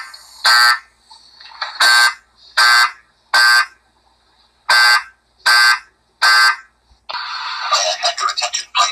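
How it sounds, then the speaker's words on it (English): A building fire alarm sounds after being pulled, blaring in repeated loud bursts about one per second, then giving way to a recorded voice announcement. "I pulled the fire alarm"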